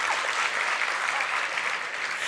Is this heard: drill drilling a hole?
no